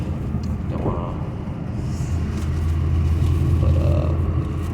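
Ford Mustang GT 5.0 with a Roush factory setup, driving into a construction zone: a steady low engine rumble with road noise that grows slightly louder and heavier partway through, with no talking over it.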